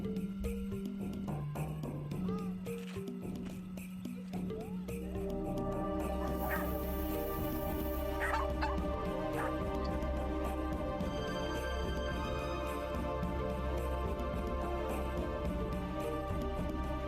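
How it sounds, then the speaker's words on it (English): Little dogs barking, yipping and whimpering at a dog park, played back from a video: rapid overlapping high yaps and whines, several dogs at once, fairly faint and continuous throughout. "Little dogs everywhere. Little dogs chasing little dogs."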